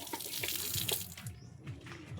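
Water leaking from a pipe drips and trickles close by in quick, irregular plops, fairly quiet, with a faint running-water wash behind them.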